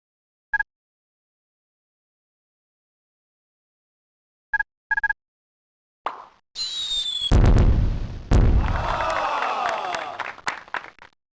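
Fraction firework launching in the 1996 game Mighty Math Number Heroes: a few short plops and blips, then a rising whistle and a loud burst with crackling sparkle and cheering-like noise that fades out.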